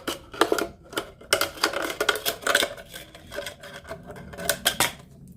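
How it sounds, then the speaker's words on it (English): Large scissors cut around the bottom of a plastic bottle for a craft decoration, making a string of crisp, close snips and crunching plastic crackles in irregular bursts, with no talking. "get the large scissors and cut around the bottom of the bottle"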